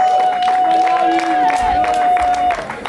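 Crowd at an album launch concert claps and cheers for sponsors, a dense wash of applause under a sustained high tone and a voice over a loudspeaker, easing off near the end.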